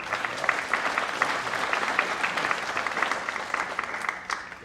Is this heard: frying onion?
no